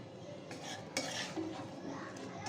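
Potatoes and green peas being stirred in a pan for aloo matar sabji, giving a close scraping and clinking of utensil against metal with a soft frying sizzle underneath, steady for a couple of seconds.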